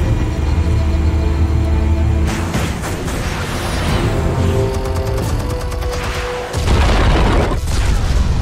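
Explosives detonating in a Batman video game produce deep, heavy booms over a dense mechanical game ambience, with a strong blast hitting partway through and rumbling afterward.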